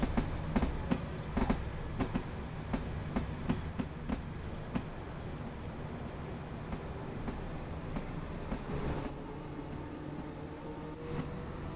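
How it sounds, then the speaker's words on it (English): Rhythmic clickety-clack of rail joints beneath a Class 313 electric multiple unit on the East Coastway line in Train Sim World 6, heard through an open cab window as steady rolling rumble with repeated wheel clicks, no talking. "I want to open the window so we can hear these track sounds."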